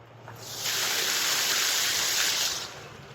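A honeybee swarm is shaken hard into a hive box, giving a sudden broad rushing whoosh that holds for about two seconds before falling away, loud and close.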